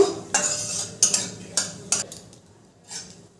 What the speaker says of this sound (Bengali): ফোড়নটাকে একটু নেড়ে চেড়ে ভেজে নেব।